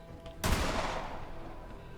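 A single sharp blast from a Jakobs weapon in the Borderlands 3 video game, loud and sudden, followed by a long ringing decay that fades over the next second and a half.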